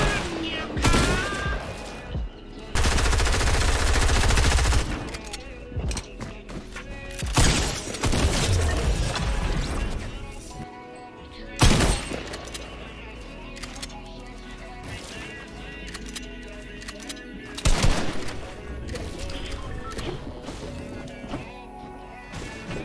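Video game gunfire rings out as repeated loud bursts of shots over game audio, recurring in sharp volleys throughout, with a voice occasionally talking over the action.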